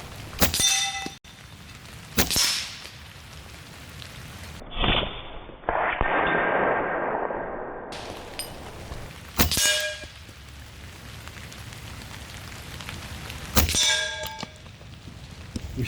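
Semi-automatic Evanix Cloud Ultra Plus .30 caliber air rifle fires several sharp, clanging shots spaced a few seconds apart, with a longer hissing burst of air between them, outdoors and without talking.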